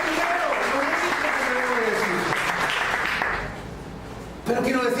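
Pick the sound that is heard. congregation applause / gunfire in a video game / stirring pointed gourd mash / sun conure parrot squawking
congregation applause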